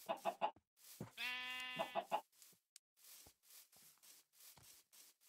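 Chickens in the Minecraft video game cluck in short clipped bursts, with a drawn-out sheep bleat in the middle, all close and fairly quiet, with no talking.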